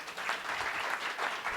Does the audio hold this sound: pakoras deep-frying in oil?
no